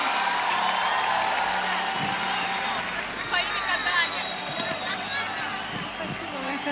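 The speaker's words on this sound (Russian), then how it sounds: "Друзья, ваши аплодисменты этим маленьким принцессам" Applause and cheers rise from a concert audience at a show, a soft, steady patter of clapping with scattered whoops, heard from a distance under a steady bed of background noise and faint voices.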